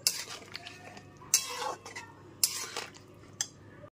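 A spoon stirs sugar into okra and potato curry in a pan, making four scraping, clinking strokes against the metal, close by and spaced about a second apart, alone without talk.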